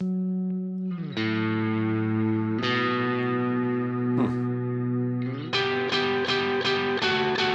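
Electric guitar through a Marshall amp simulation with distortion and delay: sustained overdriven chords and notes, then a run of quick picked attacks near the end whose repeats echo brightly, loud and close with no voices.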